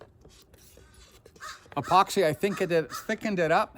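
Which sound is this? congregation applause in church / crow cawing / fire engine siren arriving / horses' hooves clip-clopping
crow cawing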